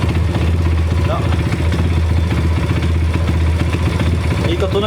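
A motorcycle engine running after its CDI unit was replaced, revving steadily with a dense, pulsing mid-range drone and constant clatter throughout, close and loud, with no drop in level.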